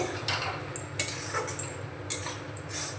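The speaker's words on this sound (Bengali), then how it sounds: "এখন দিয়ে দেব কাজু আর কিশমিশ ভালো করে মিশিয়ে নেব" Cashews and raisins are stirred into a carrot laddu mixture in a pan, giving a steady run of close scraping and light metallic clinks of a spoon against the pan over a low background hum.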